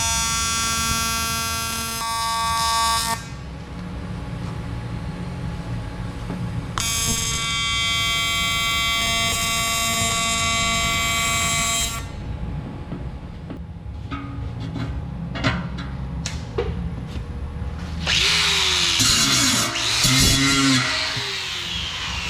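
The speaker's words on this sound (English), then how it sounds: "Now I get to weld that guy on there, and then I get to weld that guy on there" A welder fuses a sump onto a custom fuel cell in a garage, giving a steady buzzing crackle in long bursts of several seconds separated by brief pauses, fairly close and loud with no talking.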